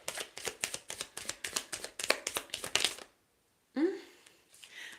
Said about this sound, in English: when I tried to keep shuffling, it went ahead and fell out of my hand